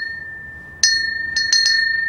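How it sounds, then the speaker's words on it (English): A large bell struck several times, giving a clear bright sustained ring with a few quick repeated strikes close together near the end, loud and close with no talking over it. "What about this really big bell?"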